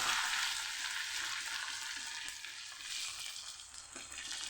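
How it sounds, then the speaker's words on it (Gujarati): Ginger garlic paste sautéing in a hot pan for a Kathiawadi papad curry gives a steady, close hiss and crackle of frying. No one speaks over it. "આદુ લસણની પેસ્ટ ઉમેરી દઈશું અને સરસ આપણે સાતળી લઈશું"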